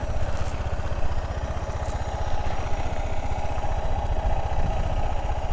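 Suzuki DR650 air-cooled single-cylinder thumper engine running steadily at low revs, a close, even chugging pulse with faint clicks on top and no speech.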